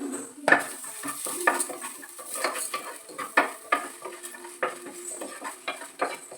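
Coriander seeds, fennel, cumin, fenugreek and ajwain being stirred in a pan for sambar, with repeated scraping and clinks of a metal spoon against the pan over a soft background, no talk.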